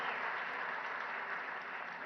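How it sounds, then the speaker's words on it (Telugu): A large audience applauds at a political speech by CM Revanth Reddy, a dense, sustained wash of clapping that stays loud and even throughout with no talk. "పెద్ద ఎత్తున మీరు చప్పట్లతోని వారిని అభినందించండి."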